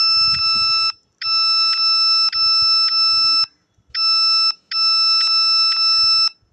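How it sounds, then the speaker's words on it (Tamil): An Allynav R26 GNSS receiver emits long, steady high-pitched beeps during point stakeout, in bursts separated by short gaps, loud and close with faint background noise. "உங்களுக்கு பீப் சவுண்ட் கேட்குதுல"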